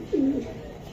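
Racing pigeon held in hand, giving one clear, loud, low throaty coo that rises then falls away, followed by quieter murmuring with no speech.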